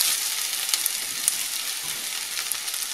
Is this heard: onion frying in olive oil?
yes